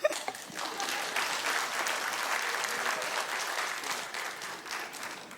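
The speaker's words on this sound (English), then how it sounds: "Claps." Audience applause at a mayoral candidate forum held by a women's organization, a steady round of clapping from a crowd that holds for about five seconds without fading much.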